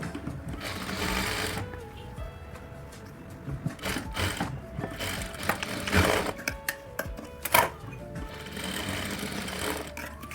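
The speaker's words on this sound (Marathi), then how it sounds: "Okay, double Shillai Maru." Sewing machine running a double line of stitching on a 34-inch katori blouse: close, steady motor whirring in several bursts separated by short pauses and faint handling noises.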